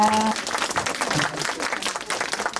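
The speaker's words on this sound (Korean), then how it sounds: "우리 친구들에게 다시 한번 박수 부탁드립니다" Audience applause for kindergarten children after their performance at a school arts festival, dense steady clapping throughout, with a brief tone at the start.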